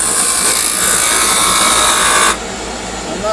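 A wood lathe turns a chess knight while a cutting tool trims the wood, making a loud, steady hissing scrape that stops abruptly partway through and leaves a quieter machine hum.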